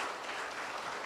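Audience applause at a book concert in Wonju, steady and dense from start to end in one brief burst for a photographer being introduced.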